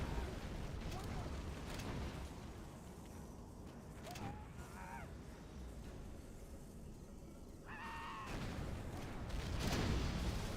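A worker unit detonates in a video game match: a broad, rumbling blast swells near the end over a dense, continuous bed of battle noise, with brief tonal chirps from the game earlier on.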